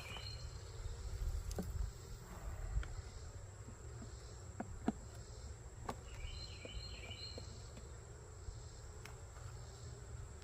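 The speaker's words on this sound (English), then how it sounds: "I got a few bees hanging out." A steady, low insect hum of honeybees at an open hive fills the background, faint and continuous, with occasional small clicks and distant chirps.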